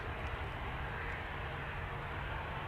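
An airliner departing Amsterdam Schiphol Airport, a steady, loud broadband engine roar with strong low rumble, constant throughout with no break.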